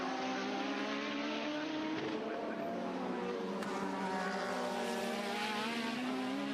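1980s Formula 1 cars racing, a sustained high engine whine with shifting pitch tones, loud and continuous as cars overtake one another, with no voices over it.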